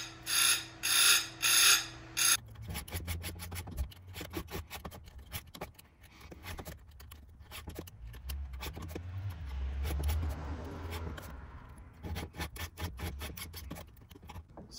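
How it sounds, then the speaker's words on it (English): A Ripsaw 500i raker grinder grinds a saw chain, giving a loud, high whine at first that cuts off after about two seconds, followed by a quieter stretch of scraping, rubbing and mechanical clatter. "I'm gonna go ahead and grind that other chain up now."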